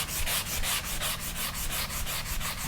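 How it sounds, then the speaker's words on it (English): Hand sanding of dried joint compound on a drywall patch, a steady back-and-forth scraping rub repeating about five strokes per second, close and continuous with no talking. "now it's time for sanding"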